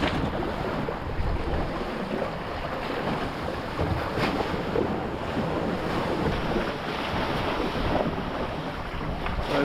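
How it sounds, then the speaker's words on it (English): Steady, strong wind roars across the microphone while waves wash against a Hobie Cat FX One catamaran under sail off the north coast of Šolta, giving a continuous, dense rush of noise without voices. "So it's getting windier and windier"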